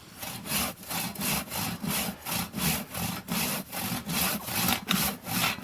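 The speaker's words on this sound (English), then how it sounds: "The sound of the saw working." A handsaw cuts through wood in a steady back-and-forth rhythm, about a dozen loud rasping strokes up close.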